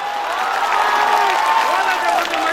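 An audience at a mushaira answers with applause and cheering, a steady wash of clapping and crowd noise mixed with voices and a few whoops.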